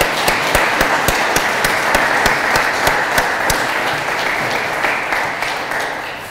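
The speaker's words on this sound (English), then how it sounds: "Let's give him a round of applause." A crowd applauds for a police color guard at a 75th anniversary ceremony in Yonkers, giving steady, dense clapping that holds loud and full throughout and then starts to taper slightly at the end.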